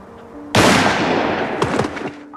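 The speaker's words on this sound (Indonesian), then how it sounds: "Rollo yang sudah emosi seketika langsung menembak Kapten Heller" Gunshot in a war film set in winter Stalingrad: a single loud, sharp blast erupts after a quiet moment and rings out with a rumbling decay and a few crackling echoes.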